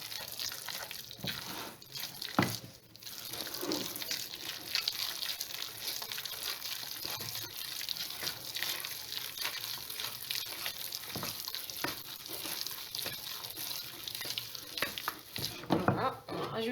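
Gluten-free choux pastry dough for gougères is mixed vigorously by hand, producing close, continuous wet stirring and slapping sounds with a few sharper knocks, no voices.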